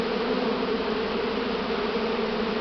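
A spring honey bee swarm hums continuously, a dense steady drone of many bees close by with no pauses and no voices.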